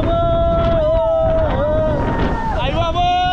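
A motorboat speeds up on the sea off Muscat, a steady rushing roar with wind buffeting the microphone and a rising, wavering whine, while people talk over it.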